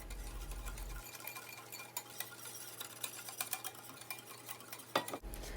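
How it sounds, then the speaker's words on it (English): A utensil stirs a milk and egg mixture for homemade banana pudding, giving soft, steady scraping and clinking against the bowl with small taps, quiet and close with no talk. "now you want to stir it really well."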